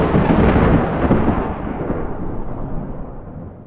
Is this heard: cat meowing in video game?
no